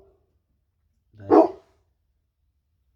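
A single loud bark from a dog guarding its yard rings out close by, brief and sharp against an otherwise quiet background.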